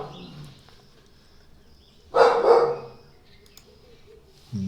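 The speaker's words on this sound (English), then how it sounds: "Dog just saying good morning to you all." A dog lets out a single loud bark in a quiet room, then a brief shorter sound near the end.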